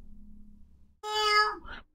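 A single cat meow from the game My Talking Tom Friends, short and clear, following a low faint hum.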